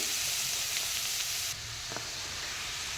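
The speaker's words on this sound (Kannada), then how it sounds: "ತುಂಬ ಈರುಳ್ಳಿ ಫ್ರೈ ಮಾಡೋಕ್ಕೆ ಹೋಗ್ಬೇಡಿ ಸ್ವಲ್ಪ ಫ್ರೈ ಮಾಡಿಕೊಳ್ಳಿ" Onions fry in a pan for a Kannada-style hasi bassaru, giving a steady, soft sizzle and hiss with faint stirring and no voice.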